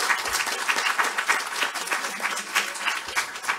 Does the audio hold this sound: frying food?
no